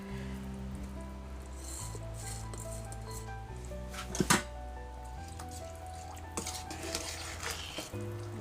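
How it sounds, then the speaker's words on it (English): Chicken biryani gently mixed in a pot, with scattered scraping and clinking of a utensil against metal, one sharper clatter near the middle, over a low steady hum. "Give it a gentle mix."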